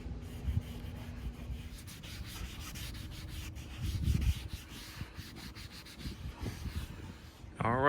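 A cloth or applicator rubs Meguiar's Ultimate Black trim restorer onto car trim in soft, repeated scrubbing strokes, close and quiet, with a few louder swipes and a brief knock at the end.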